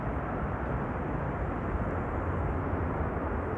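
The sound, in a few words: Delta Airlines plane landing with thrust reversers at Schiphol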